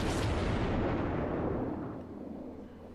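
A naval gunfire salvo from a cruiser in the World of Warships naval combat game booms out as one heavy, loud blast that rolls and decays over about three seconds.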